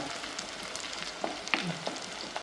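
Chopped green chillies sauté in hot oil in a pan for a Kerala colocasia-leaf curry, giving a steady soft sizzle with a few light stirring scrapes and no one speaking.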